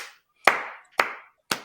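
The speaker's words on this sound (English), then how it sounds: "Slow clap." Three slow, deliberate hand claps, evenly spaced about half a second apart, crisp and close with no talk over them, on a wrestling podcast debate show.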